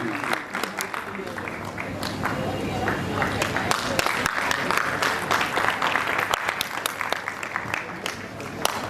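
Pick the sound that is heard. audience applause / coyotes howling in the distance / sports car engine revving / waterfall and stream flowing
audience applause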